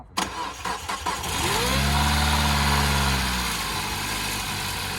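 Peugeot RCZ engine cranking over and catching after a few seconds, then settling into a steady, loud idle close by, with some clunks and handling noise at the start.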